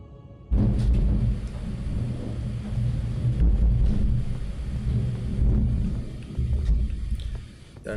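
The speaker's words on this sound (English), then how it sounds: "Thunder and lightning." Thunder in Elden Ring, a deep rolling rumble that starts abruptly and swells and fades over several seconds, loud and low, with storm noise beneath.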